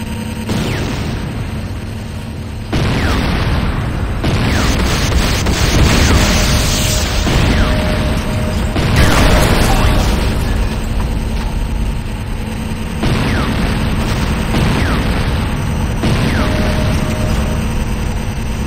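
A GDI Tiberium Refinery blows up in the game Renegade, with loud booming blasts and rumbling bursts repeating across the stretch amid battlefield noise.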